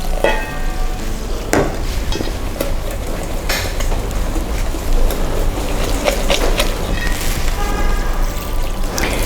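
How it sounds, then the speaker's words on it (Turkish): Fish-and-chips batter with soda being stirred in a bowl, a continuous wet whisking and scraping with fizzy crackle and occasional clinks of the utensil against the bowl. "Yaklaşık iki küçük şişeye yakın soda ekliyoruz. ve bir güzel karıştırıyoruz."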